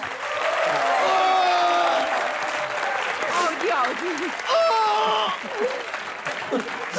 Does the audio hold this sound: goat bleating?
no